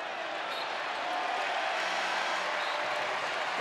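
A dense, steady crowd roar fills a college basketball arena during an ACC men's game between Boston College and North Carolina. The loud, continuous buzz swells slightly toward the end.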